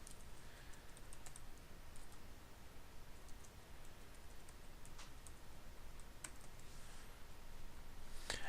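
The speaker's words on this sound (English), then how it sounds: "Oops, make sure you type in your password carefully." A password is typed on a computer keyboard, a quiet run of soft, uneven key clicks over a steady low hiss, with a couple of slightly sharper taps; no voices.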